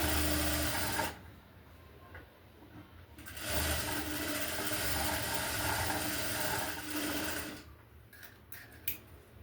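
A sewing machine runs in bursts as blouse side pieces are stitched together, its steady mechanical whir broken by short pauses and a few light clicks, close by with no speech.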